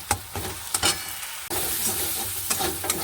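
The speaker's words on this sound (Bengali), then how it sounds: "এবারে ভালো করে পুরটাকে ভাজতে হবে। একটু টাইম তো লাগবেই, টাইম নিয়ে ভাজতে হবে।" Prawn stuffing for stuffed parwal is fried in a pan, with a steady loud sizzle under repeated sharp scrapes and clacks of stirring.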